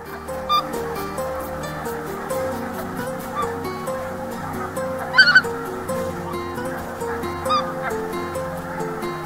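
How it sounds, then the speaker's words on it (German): A flock of geese honks steadily in a wet meadow reserve near the North Sea coast, a dense chorus of overlapping calls at moderate distance with a few louder, nearer honks standing out. "einige Gänse, die uns auch recht nah heranlassen"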